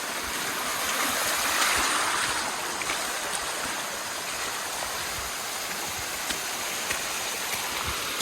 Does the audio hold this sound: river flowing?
yes